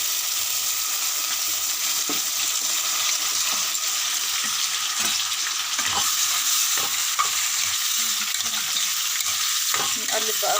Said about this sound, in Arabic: نقلب بقى الرز كده على بعضه